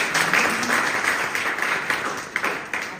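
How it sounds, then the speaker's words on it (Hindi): An audience at a business-plan presentation breaks into applause, a fairly soft, steady patter of many hands clapping for a few seconds with no voices over it. "एक बार जोरदार तालियां चाहेंगे सीमा सर के लिए"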